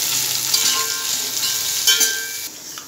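Onions and green chillies sautéing in hot oil in a pan, a steady close sizzle with occasional scraping stirs, no talking.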